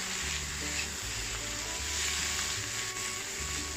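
Osmanthus eggs stir-fry with Shaoxing wine in a wok, giving a continuous bright sizzle over a low, droning hum, with faint stirring noises and no talk.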